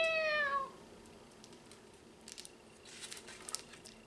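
A single short meow from a nearby cat, followed by quiet rustling and soft tapping sounds.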